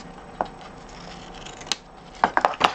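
Scissors cut cardstock paper for a custom-size Stampin' Up gift bag, with a few close, crisp snips and a quick cluster of blade clicks at the end over faint room noise.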